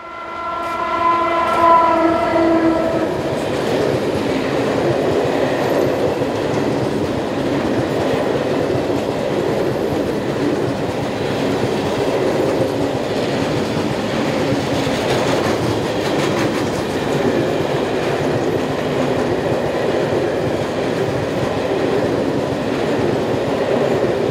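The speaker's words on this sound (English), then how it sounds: "one of the many coal trains that run along this side of the river" A heavy coal freight train rumbles past steadily along the Elbe River valley near Usti nad Labem, Czech Republic, with a continuous roar of wagons, an opening horn blast fading into sustained rolling noise.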